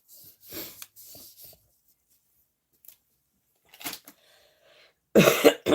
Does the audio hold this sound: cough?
yes